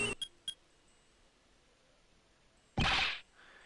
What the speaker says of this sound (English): That sound. That's her cell phone.